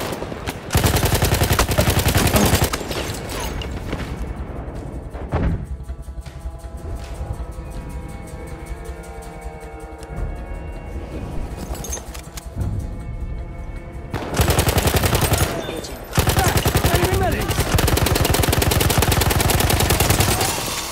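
Enemy machine gun fire in a multiplayer war game, long loud rattling bursts of rapid automatic shots, close and dense, broken by a quieter stretch of lighter gunfire before heavy bursts return.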